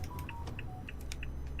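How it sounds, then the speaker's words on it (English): A mobile phone gives short repeated electronic beeps at a steady pace, faint under a low engine-like hum from a truck driving game. "Oh, my phone's beeping."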